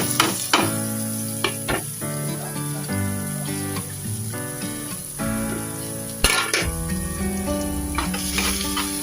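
Onions fry in a pan for a sarsiado dish of dalagang bukid fish, giving a continuous close sizzle with a few sharp crackles and tonal sounds in the background.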